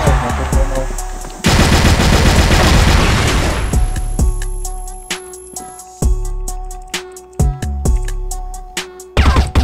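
Rapid bursts of video game gunfire during a ranked match, a dense automatic volley followed by sharp individual shots with pauses between, loud and close.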